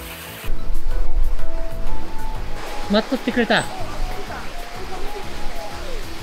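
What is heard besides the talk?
rushing water at the Ogawa waterfall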